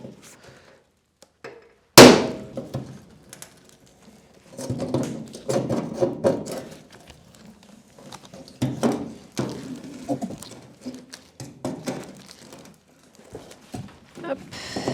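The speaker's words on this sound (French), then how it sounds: "On commence avec la tenaille, on enlève un peu." Pincers tear and wrench sheet metal from a Citroën 2CV body, giving one loud sharp crack followed by a run of irregular metallic clanks, scrapes and creaks, close by and unaccompanied by talk.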